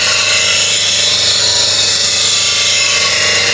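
Woodturning tool pressed against a CBN grinding wheel, giving a steady, loud, continuous high grinding hiss over a low motor hum, with no pauses.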